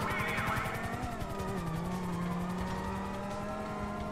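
A car engine in GTA drones steadily at a close distance, its pitch shifting and sliding with a sports-car-like tone, with some tire noise mixed in and no talking.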